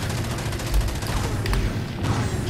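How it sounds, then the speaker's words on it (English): Heavy weapon fire from an Accord Dreadnaught's explosive rounds in the game Firefall sounds as a dense, continuous barrage of booming blasts and mechanical clatter with a few sharper bursts throughout. "explosive round ability, those are default abilities for the Accord Dreadnaught."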